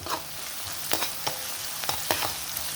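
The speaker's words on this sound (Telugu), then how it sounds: "సాల్ట్ వేసుకుంటే కొంచెం తొందరగా ఫ్రై అవుతాయి అన్నమాట ఆనియన్స్" Onions frying in oil with salt in a pan for a fish curry, a close, fairly loud crackling sizzle with a few sharp scraping strokes of a spoon stirring them.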